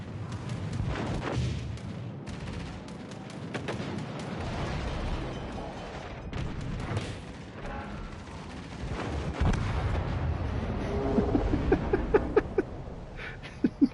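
Naval battle sounds in World of Warships Legends: dense rumbling gunfire and explosions roll on continuously, ending in a run of sharp, sudden booms.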